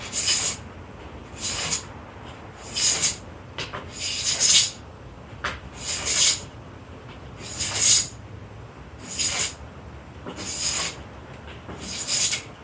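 A hand plane shaves oak for a ship's knee brace, giving about ten rhythmic, hissing rasps, each lasting under a second, spaced roughly every one and a half seconds at close range.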